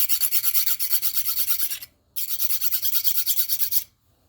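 Hand file rasping down mushroomed metal edges on a CO2 car axle: rapid, evenly spaced back-and-forth strokes in two bursts separated by a short pause, close and bright, with no talking.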